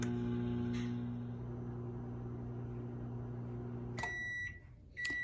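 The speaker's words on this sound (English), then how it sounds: "my microwave is going to start warming up my water" A microwave oven hums steadily for several seconds, then gives a few sharp electronic beeps near the end.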